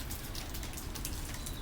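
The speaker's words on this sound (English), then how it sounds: "It's raining, but the sun is shining." Rain falls while the sun shines, a soft, continuous patter of drops heard close by with no voices.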